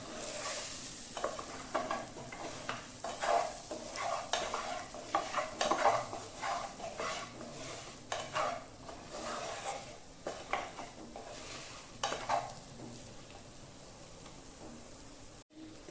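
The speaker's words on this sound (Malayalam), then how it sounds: "ഇത്രയും പൊടിയിലിട്ട ശേഷം ആ പൊടികൾ മൂക്കാനായിട്ട് ഒന്ന് ഇളക്കാം" Steady stirring of chicken masala and spice powders frying in a pan, with a spoon scraping repeatedly against the metal over a soft continuous sizzle, close and unhurried, no voices.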